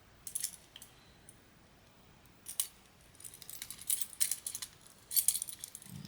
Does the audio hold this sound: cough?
no